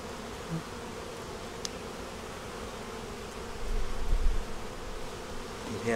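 Continuous buzzing of a swarm of honey bees at a hive, a steady low drone with a faint rumble swelling near the end, no voices.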